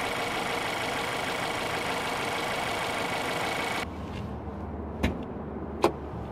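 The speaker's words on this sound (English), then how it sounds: "the engine bay for the boxer four-cylinder engine offers a clean and convenient design" Subaru Crosstrek boxer four-cylinder engine running: a steady broadband engine drone that drops off abruptly partway through, followed by a quieter low hum and two sharp clicks.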